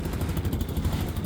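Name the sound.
trawler boat engine on the Padma river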